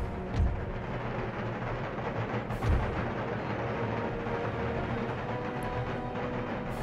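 Artillery gunners firing in Empire: Total War, a Bavaria campaign battle, heard as a dense, continuous battlefield rumble with a few heavier booming cannon thumps standing out near the start and middle.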